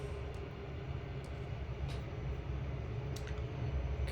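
Locomotives rumble along a route in Trainz, a steady low mechanical drone with a few faint higher clanks and squeals over it, continuous and moderately distant throughout.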